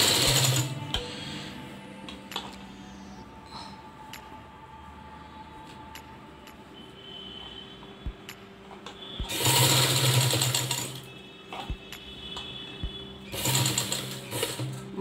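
A sewing machine stitching a baby jhabla, with short bursts of rapid mechanical whirring separated by quieter stretches of clicks and handling, close and clear.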